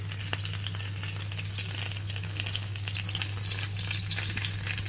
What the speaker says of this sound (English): Just sizzling away.